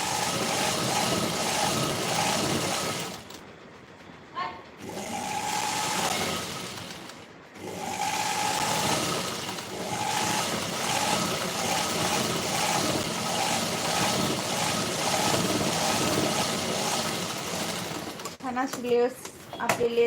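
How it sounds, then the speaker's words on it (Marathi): A sewing machine runs in long stitching bursts on a seam, with a couple of brief pauses and someone talking over the mechanical whirr. "आता परत एक शिलाई मारून घेते बघा"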